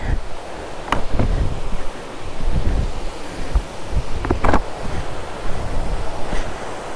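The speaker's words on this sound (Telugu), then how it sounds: "ఇది అనంతగిరి వాటర్ ఫాల్స్." Ananthagiri waterfalls in the Araku Valley give a steady, broadband rushing roar that fills the whole clip, with gusty wind buffeting the microphone and a few brief sharper splashes.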